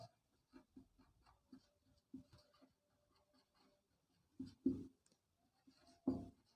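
A pen writes on paper during a class 9 geometry lesson, producing soft, irregular scratching strokes with a few louder taps, quiet and close.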